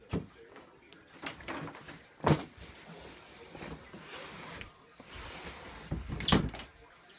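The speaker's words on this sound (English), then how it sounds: "Close my door." A bedroom door swings shut with a short knock, followed by another thud a few seconds later, heard close by in a quiet room with a radio faintly playing.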